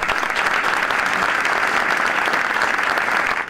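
Sustained, dense audience applause at a ceremony renaming the Cecilio Lastra sports centre, given as a farewell tribute: a steady, loud wash of many hands clapping with no break, tapering slightly at the end.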